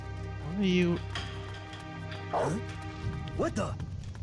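A dog in Metal Gear Solid Portable Ops gives several sharp barks and yelps in short bursts, close and fairly loud over a humming background, with people talking in between.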